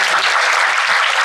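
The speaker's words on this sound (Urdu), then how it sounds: "تالیاں بجائیں گے." Applause from an audience at a university event in Faisalabad, a steady, dense wash of clapping across the whole moment with no voices over it.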